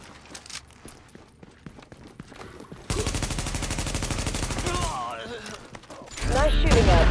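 Gunfire in The Division aboard an aircraft carrier, starting as scattered shots under game chatter, then a loud sustained burst of rapid automatic fire for about two seconds, followed by another heavy close volley near the end.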